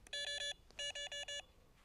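A fishing bite alarm at a carp rod set on bank sticks is switched on and gives two quick bursts of sharp electronic beeps, three to four pulses each, close and clear in a quiet setting.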